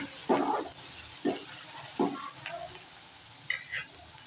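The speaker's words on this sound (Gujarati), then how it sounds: "તેમાં નાખશું ઝીણા સમારેલા કાંદા. તેને આપણે સાતળી દઈશું." Finely chopped onions sautéing in a pan, a soft low sizzle broken by a few distinct stirring scrapes at intervals, close but fairly quiet, with no talk.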